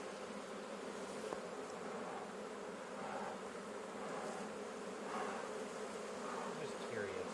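Honeybees droning steadily around an opened hive that holds larvae, a dense continuous buzz at moderate level with the colony agitated and no talk over it.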